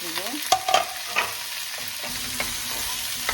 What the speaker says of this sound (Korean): 숨만 죽을 정도로 살짝 볶고 있습니다